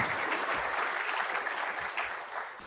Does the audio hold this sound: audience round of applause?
yes